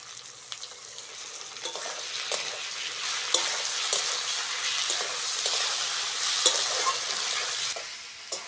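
Ginger-garlic paste fries and sizzles steadily in a pan for a tomato, onion and green chili potato curry, with scattered scraping stir strokes and soft clinks over the continuous hiss; nobody speaks.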